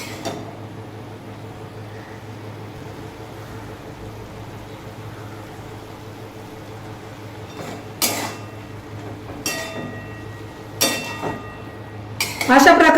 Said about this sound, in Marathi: आता भाजी व्यवस्थित शिजवून द्यायची आहे